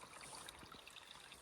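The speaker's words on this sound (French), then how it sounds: "Petit ruisseau. Entendez le bruit." Steady, gentle gurgle of a small flowing stream, an even watery hiss close by with no voices.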